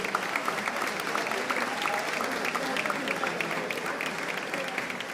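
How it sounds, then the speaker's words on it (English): A crowd at a pizza awards ceremony in Milan gives pizza chefs a sustained round of applause, an even, moderately loud wash of clapping with a faint murmur of voices beneath. "A big applause to these phenomenal chefs"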